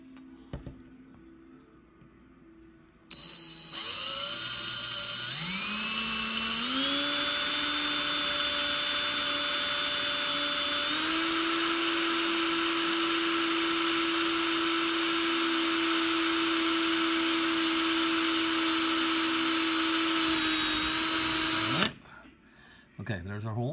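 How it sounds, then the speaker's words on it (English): A power drill whirs loudly for about twenty seconds, its pitch rising and steadying as it bores through material, then stops abruptly. "Okay, so I'm going to drill the hole."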